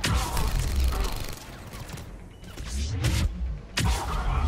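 Gunfire from Mass Effect 3 during a Tuchanka bomb mission, a dense, busy run of shots and impacts with sharp bursts around the middle and end over continuous in-game noise.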